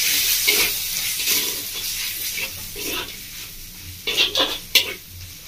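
Masala of Kashmiri chilli powder and turmeric fries in a pan for a Bengali parwal paneer curry, giving a steady close sizzle broken by rhythmic stirring scrapes that grow sharper and louder near the end.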